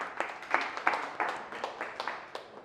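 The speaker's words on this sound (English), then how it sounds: "Round of applause for Josh." A small audience applauding at a business talk in a lounge venue, with a short run of quiet, sparse, slightly uneven claps and no voices over them.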